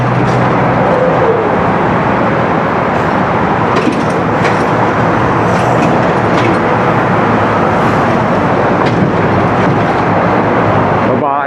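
A car rolls through busy traffic, with a dense, loud, steady road rumble and passing vehicle noise throughout and faint voices in the background.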